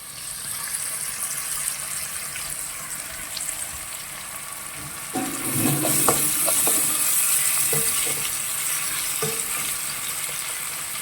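Chicken curry bubbles and sizzles on a high flame as a spoon stirs through it, a steady frying hiss with a few sharp scrapes and knocks against the pot, near and without talk.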